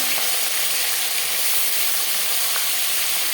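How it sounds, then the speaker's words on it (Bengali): Marinated hilsa fish pieces and head fry in hot mustard oil, giving a loud, dense, continuous sizzle with faint crackles throughout, close up. "এবার দিয়ে দেব ম্যারিনেট করে রাখা মাছ প্রথমে আমি মাথা দিলাম আর দিয়ে দেবো মাছ"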